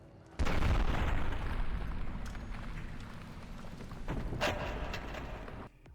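A live grenade goes off in Fallout New Vegas, a sudden loud boom that rolls into a long rumbling, debris-filled tail, with a second smaller blast before it cuts off.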